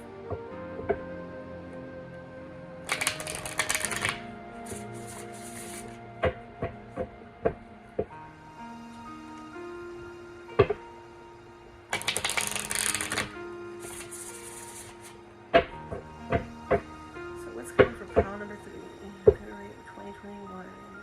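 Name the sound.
shuffling tarot cards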